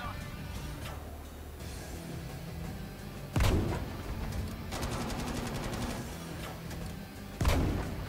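Distant gunfire crackles through a World War II battlefield in Battlefield V, with two sharper nearby shots and a brief rapid machine-gun burst in between, over steady ambient rumble.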